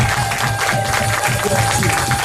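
A church congregation applauding during worship, a dense, steady wash of clapping from a crowd in a hall, loud and continuous with voices mixed in.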